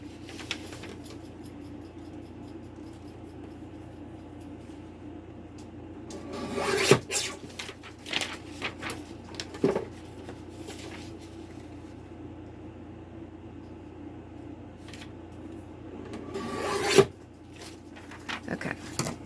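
Scissors or a trimmer cut and rasp through paper while a pocket envelope is trimmed, a few sharp rustling bursts over a steady low background hum, close and fairly quiet.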